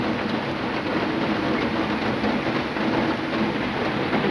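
Dense, steady hiss of heavy rain in Pune pours without a break, a constant broadband roar with no voices or other distinct sounds standing out.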